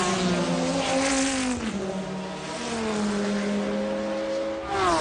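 A race car engine at Le Mans in 1996, at sunset: a loud, sustained high-pitched engine whine holding steady with slight pitch shifts, then rising again at the end, close and continuous.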